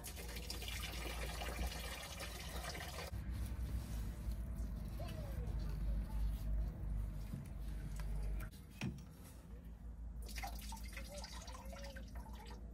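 Antifreeze drains from a pulled radiator hose on a Ford RV motorhome into a bucket, a steady close liquid pour and drip running throughout with brief breaks.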